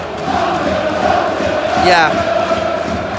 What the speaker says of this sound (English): You can hear the crowd trying to get behind the team.